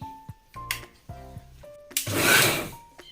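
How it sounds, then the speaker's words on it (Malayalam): A mixer grinder gives one short, loud whirring pulse on a crushed mixture with pathiri flour, preceded by light clinks of dishes and utensils in a home kitchen. "എന്നിട്ട് മിക്സിയിൽ ഒന്ന് പൾസ് ചെയ്തെടുക്കാം കേട്ടോ."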